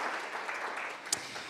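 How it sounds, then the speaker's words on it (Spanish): A church congregation applauds, a soft, dense patter of many hands heard from a distance, with one sharper clap standing out near the end. "Fuertes aplausos a Él."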